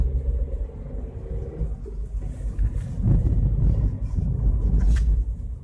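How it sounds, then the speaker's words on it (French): Low, steady engine rumble of a Seat Mii small car heard from inside, with road and wind noise blending into a continuous hum. "On entend ronronner le moteur."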